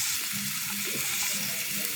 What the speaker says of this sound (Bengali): জিরা ফোড়ন দিয়ে দিছে।